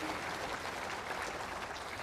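An audience at a county government event applauds in a continuous, even patter of many hands, fairly loud and unbroken, with no talking over it.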